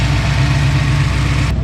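A Ford 387 stroker engine fitted with Mac mufflers idles steadily, a loud, close, continuous low rumble with an even, pulsing exhaust throb and no talk over it.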